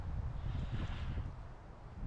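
Wind blowing across a fishing pond in late winter, a low, steady rumbling buffet of gusts against the microphone, fairly faint and unbroken, with no voices.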